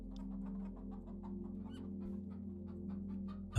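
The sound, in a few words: hens clucking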